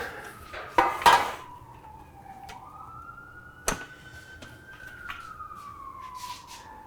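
Emergency vehicle siren passing outside a home kitchen, a single steady wailing tone rising and falling at moderate volume through the walls, interrupted by sharp clatters of dishes and cutlery nearby.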